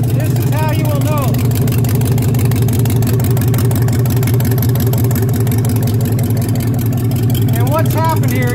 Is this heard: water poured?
no